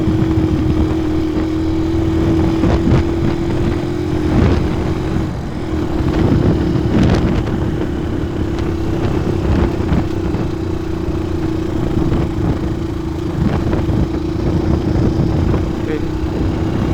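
A Yamaha W175 Cafe motorcycle climbs a steep uphill road on a mountain tour, its engine holding a steady, continuous mid-pitched drone with wind noise throughout and no break.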